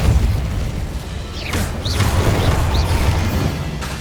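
Deep booming blasts of the Confringo explosive spell in Hogwarts Legacy, a loud rumbling low-end roar with a few whooshing streaks in the middle, sustained and heavy with no talking.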